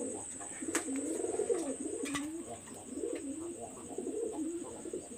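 Bangladeshi high-flyer pigeons cooing in a steady series of low, rolling coos, close and clear, with a faint high whine in the background and no talking.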